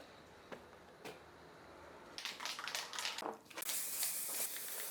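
Short spray-paint bursts hiss during a house renovation, painting a bold number sign, first faint isolated puffs, then longer repeated sprays building to a sustained close hiss.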